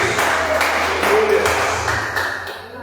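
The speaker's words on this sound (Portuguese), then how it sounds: "Você pode aplaudir o Senhor?" A church congregation applauding, a steady wash of many hands clapping together in a reverberant hall, sustained for a few seconds and slowly fading.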